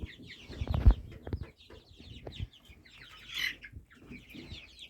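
One-month-old Adler and domestic chicks cluck and peep in scattered bursts, close by and fairly soft, with light rustling between the calls.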